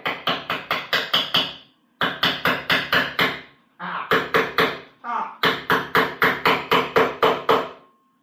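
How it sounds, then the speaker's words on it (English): A hammer strikes a crash cage part onto a Yamaha R7 motorcycle in rapid loud metallic bursts of about six to eight blows each, separated by brief pauses, with no talking. "Watch your hand when hammering that in."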